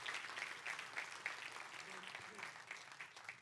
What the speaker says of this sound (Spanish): Le puede dar un fuerte aplauso a Dios por eso.